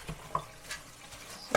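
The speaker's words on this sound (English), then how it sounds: "I'm going to drain it good, and then I'm going to fry it." Drained poke sallet greens in a pan make soft scraping, stirring and light sizzling sounds, with a couple of sharper clicks of a utensil against the pan.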